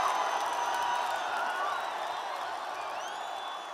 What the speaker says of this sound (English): But the loudest cheer of them all came when Kipchoge crossed the finish line.